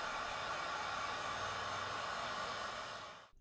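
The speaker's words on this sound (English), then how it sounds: "A heat gun applied to the nut for a minute or so may be" A heat gun blows a steady, loud whooshing roar at a Ford Duratec engine mount nut on a Mondeo, holding constant before winding down and cutting off near the end.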